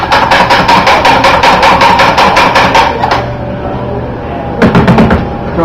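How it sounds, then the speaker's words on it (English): A coffee grinder runs loud and steady, clearing leftover grounds from its chute in a dense rapid chatter that drops to a softer whir near the end before a brief burst. "I want to grind any coffee that's left in that chute and get rid of it"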